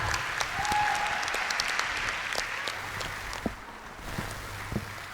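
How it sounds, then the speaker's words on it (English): Sustained applause from an audience at a school event, a steady wash of many hands clapping throughout the clip, moderately distant and unbroken, with a few scattered louder claps. "So please, everyone, give a huge round of applause for Mrs. Sajad."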